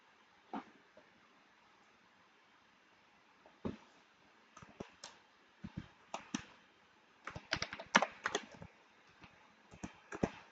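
Keys on a computer keyboard tapped in irregular short bursts while an email address is entered, close and fairly quiet, with pauses between clusters of clicks.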